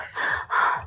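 A voice imitating the breathing of someone running: two quick, breathy vocalized puffs in a row, close and fairly loud.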